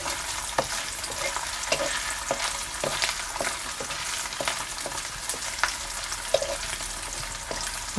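Cubes of paneer sautéing in hot oil, a steady close sizzle broken by sharp clicks and scrapes of a spatula stirring the pieces, with no talking.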